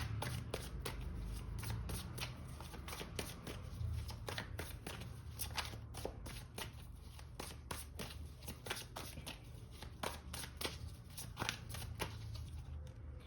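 Tarot cards being shuffled by hand during a reading, a continuous run of quick, crisp riffling snaps and slides, close and fairly quiet, with no talking.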